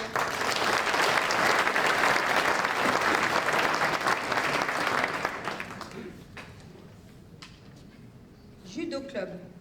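Audience applause at a municipal New Year's greetings ceremony in a French town hall, a dense, loud round of clapping that fades after about five seconds, followed by quieter room noise and brief voices.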